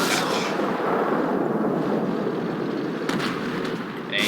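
Tank cannon fire in World of Tanks, a loud, close boom with a long, rumbling decay, and a second sharp shot following a few seconds later.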